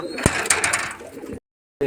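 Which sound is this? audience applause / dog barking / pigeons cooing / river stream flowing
pigeons cooing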